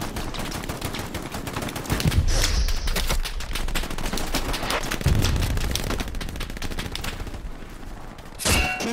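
Heavy gunfire in the World War II shooter Hell Let Loose, with dense rapid rifle and machine-gun bursts rattling continuously at close range, punctuated by louder heavy shots near the start and end.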